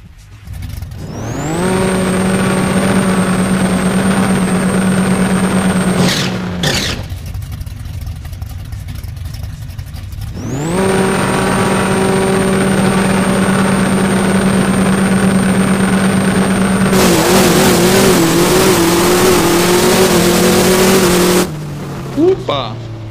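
A restored Chevrolet Malibu drag racing a Mustang in No Limit 2: a loud engine revs up and holds a steady high drone, cuts off, then revs again through a second long run, with gear-shift changes in pitch.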